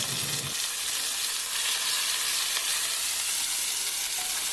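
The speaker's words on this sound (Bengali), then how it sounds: "ভালো করে নেড়ে চেড়ে দেবো" Ginger, garlic and onion paste frying in oil, a loud, even sizzle running the whole way through, with a low knock at the start and soft stirring underneath, close up and free of talk.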